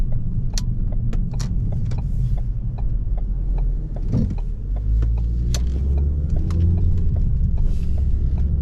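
A 2016 Ford Focus SE Sport drives over a rough road, heard from inside the cabin as a steady low road rumble. Scattered sharp knocks and rattles from the bumpy surface cut through it.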